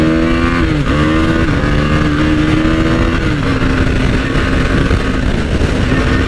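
A Kawasaki Z900 motorcycle revs hard through a wheelie inside an underpass, the engine note loud and close, rising and falling with throttle blips and reverberating off the enclosing walls, continuous throughout.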